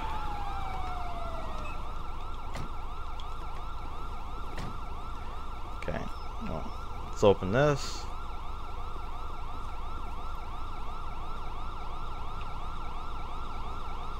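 Police sirens in GTA 5 with the LSPDFR mod cycle continuously in steady wailing sweeps, moderately loud, with a brief spoken remark and a few sharp clicks breaking in partway through.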